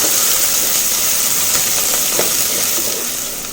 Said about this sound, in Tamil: இப்போ இதை சேர்த்துட்டு ஒரு நிமிஷம் எண்ணெயில் வதக்கி விட்டுக்கலாம்